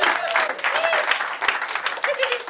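A comedy club audience claps in a brief, scattered burst, with voices and talk mixed in over the clapping.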